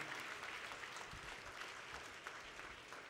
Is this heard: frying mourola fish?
no